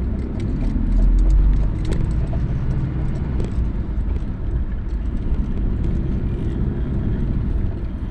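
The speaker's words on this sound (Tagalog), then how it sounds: "magapang ang sasakyan" Slow-moving morning rush-hour traffic on EDSA at Guadalupe, in Metro Manila around 8 AM, produces a continuous, loud, low engine rumble with a steady roar of crawling vehicles and no talk over it.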